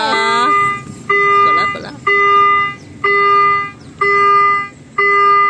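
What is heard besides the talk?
railway crossing barrier warning alarm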